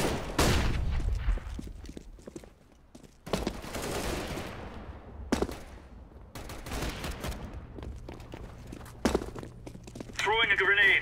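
In a CS:GO match, bursts of gunfire and explosive bangs from a thrown flashbang and grenade crack out at irregular intervals, some loud and close with decaying tails, between quieter stretches of footsteps and game noise.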